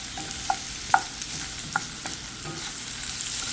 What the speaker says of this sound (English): And let this cook until my potatoes are tender. I have my heat on medium flame.